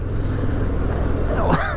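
A 2022 Harley-Davidson Fat Boy motorcycle shifting into fifth gear and accelerating, its engine rumbling loudly under heavy wind noise, with a rising whine near the end.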